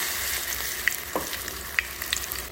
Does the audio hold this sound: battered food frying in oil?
yes